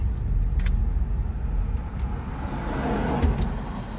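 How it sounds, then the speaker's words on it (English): Steady road traffic rumbling close by, a continuous low roar of passing cars with a faint brief whine or two, no voices. "Oh, traffic. Perfect."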